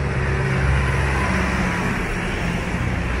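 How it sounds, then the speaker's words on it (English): Car traffic passes along a narrow, busy village street in Gamlingay, with a steady close engine and tyre rumble that swells slightly, heard from the roadside with no voices. "So I'm walking down Church Street now, notorious for traffic."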